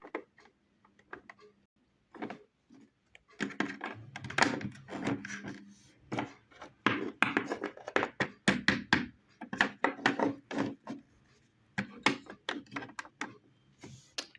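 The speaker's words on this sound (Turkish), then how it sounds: "Ay kapı açılmıyor." Someone repeatedly tries a stuck door that will not open, making a string of close knocks, rattles and handle clatters in uneven bursts, with short pauses between attempts.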